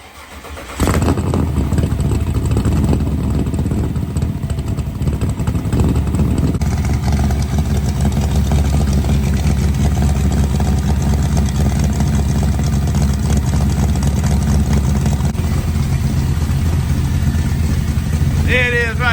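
An LS-swapped old school Chevy engine cold-starts on a cold day, heard close by the muffler as it cranks, catches loudly and settles into a steady, rumbling idle, with someone talking briefly near the end.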